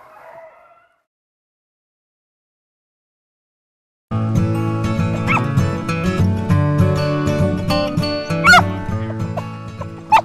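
A pack of rabbit-hunting dogs barks and yips continuously outdoors after a short silence, several animals baying at once at moderate distance, loud and overlapping, with occasional higher yelps.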